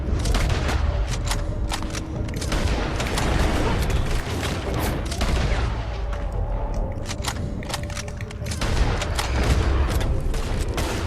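Gunshots ring out in the video game Red Dead Redemption 2 as a long, loud, chaotic firefight, with dense overlapping shots and heavier booms rattling on without a break.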